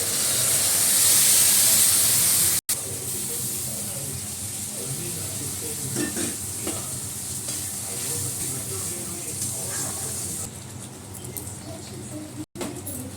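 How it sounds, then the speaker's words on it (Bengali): Mustard paste and coconut frying in hot oil, a steady bright sizzle with stirring scrapes that runs the whole time, loudest at the start and briefly cut by a couple of gaps. "সর্ষেটা একটু দিয়ে দিচ্ছি, এটা একটু ভাজা ভাজা হবে।"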